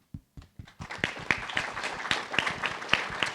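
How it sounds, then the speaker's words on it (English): Conference audience at a DevOpsDays event in Columbus breaking into applause, starting with a few scattered claps that quickly build into a steady round of clapping from a modest-sized crowd. "Everyone give a big round of applause for Nathan Harvey."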